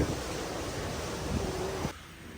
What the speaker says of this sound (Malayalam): നല്ല കാറ്റ് കേട്ടാ വെളിയിൽ നല്ല കാറ്റും